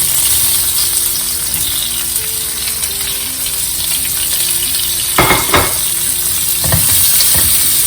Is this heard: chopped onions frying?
yes